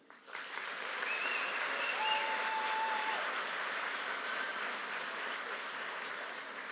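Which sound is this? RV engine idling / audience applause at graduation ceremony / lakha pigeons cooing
audience applause at graduation ceremony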